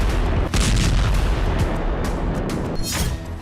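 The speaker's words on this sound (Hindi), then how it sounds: "उसके बाद धमाके होते हैं।" A loud, continuous roar of explosions and rumbling on a cargo ship, with several sharper bursts cutting through, one near the start and more toward the end.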